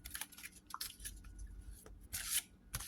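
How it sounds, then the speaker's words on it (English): Oracle cards being shuffled by hand, heard as quick, light papery riffles and rubs in short bursts, close and fairly quiet, with no talking. "Okay, these are very easy to shuffle."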